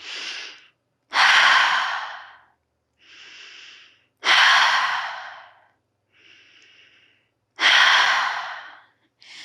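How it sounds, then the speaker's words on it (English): Three loud, close breathy exhales through cupped hands at the mouth during an energy medicine yoga practice, each a broad rushing whoosh, separated by quieter inhales. "cup at your mouth for 3 audible exhales"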